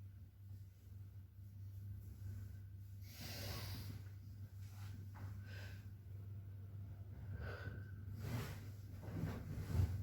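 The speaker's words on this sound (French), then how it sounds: "une respiration puissante et profonde pour ce mouvement circulaire" Deep, forceful breathing during a circular Kundalini yoga movement, with a few loud rushing breaths and snort-like exhales rising over a steady low room hum.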